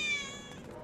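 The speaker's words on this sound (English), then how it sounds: "Here's another cat. I remember this one." A cat in a video game gives a single short, clear meow, close and alone, with a steady tonal cry.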